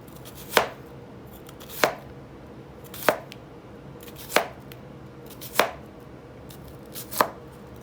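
A knife chops an onion on a cutting board while preparing a taco dinner, with six crisp, evenly spaced thuds roughly a second and a quarter apart, close and distinct, with no talking.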